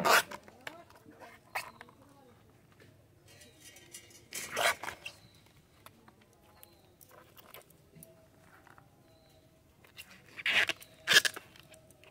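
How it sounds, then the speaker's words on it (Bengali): A banana flower being peeled by hand, with intermittent crisp tearing and rustling bursts of bracts coming off between quieter handling sounds, close and fairly faint overall. "এবার মোচা কেটে নেব, মোচা ছাড়িয়ে নেব।"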